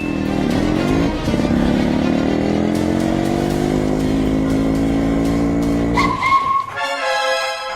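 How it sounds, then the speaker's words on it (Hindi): A motorbike roars at full speed in a chase, its engine whining steadily at close range, then a loud horn blares near the end. The noise is continuous and masks anything else. "बाइक से पीछा करते हैं।"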